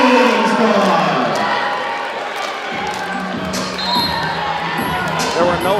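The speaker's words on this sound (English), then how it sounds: "Let's give a big round of applause for your Walker Valley cheerleading squad." A crowd in a high school basketball gym cheers and applauds for the Walker Valley cheerleading squad. The dense, loud noise continues throughout, with shouts and an announcer's voice mixed in.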